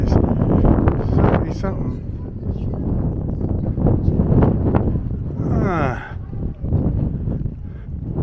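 Wind buffets the microphone on a hilltop at the Rocca Albornoziana fortress on Sant'Elia hill, a steady low rumbling roar with gusts, while people talk throughout.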